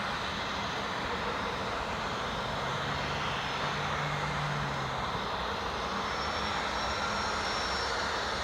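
Loganair Embraer jet departing from runway 25 at Newcastle International Airport, a steady distant roar of engines holding evenly throughout with no talk.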